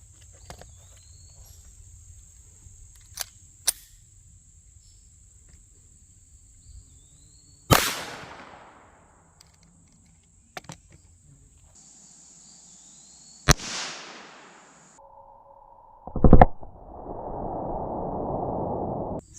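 A .22 long rifle pistol fires into a cantaloupe outdoors, with a few sharp, isolated cracks spaced seconds apart and a sustained hiss or tone after the last shot, over quiet insect-like background noise.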